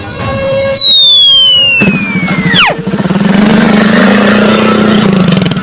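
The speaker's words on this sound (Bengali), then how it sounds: "ওই তো একটা বাইক দেখতে পাচ্ছি, বাইক নিয়ে তাড়াতাড়ি পালাই" A cartoon motorcycle starts with a rising whine that sweeps down sharply, then settles into a loud, steady buzzing engine drone as it speeds away, alone without talk.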